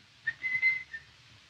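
A person whistles a brief run of four or five faint, clear notes, then stops.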